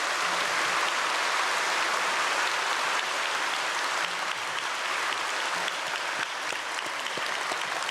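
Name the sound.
applause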